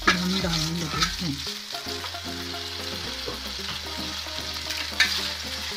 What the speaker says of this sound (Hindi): मैंने थोड़ा सा ऑयल में लहसुन डाला है और अब ये मैं जो हमने पास्ता उसको हम डालने लगे हैं